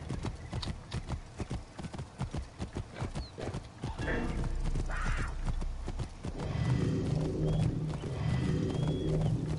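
Rhythmic clip-clop of horse hooves trotting in the video game Assassin's Creed Origins, fairly close, with a horse whinnying partway through and steady ambient background.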